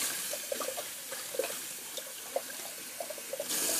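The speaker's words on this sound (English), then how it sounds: "Sorry, just rinsing out my brush here real quick." Tap water runs steadily into a sink while a synthetic shaving brush is rinsed, a low continuous wash with small splashes and clicks, fairly faint, with a louder burst of flow at the end.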